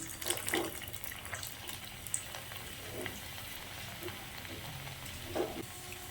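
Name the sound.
potato-egg kachori frying in hot oil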